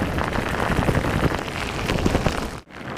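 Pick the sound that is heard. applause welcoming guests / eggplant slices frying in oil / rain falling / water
rain falling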